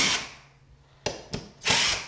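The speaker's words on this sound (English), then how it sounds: "first let's just remove some screws." A power drill backing screws out of drywall, giving short whirring bursts separated by quiet gaps, close and fairly loud with no talk.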